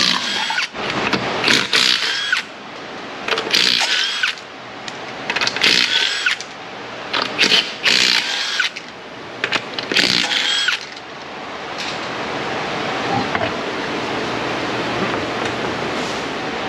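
Pneumatic impact gun rattling off a 2010 Mazda 3's wheel lug nuts during a brake job, loud close bursts repeated in about eight short spurts, then a steadier mechanical hum.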